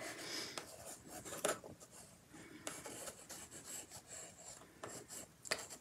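A Derwent Inktense fuchsia pencil scratches and rasps across paper in short strokes and scribbles, close and fairly quiet, with no talking.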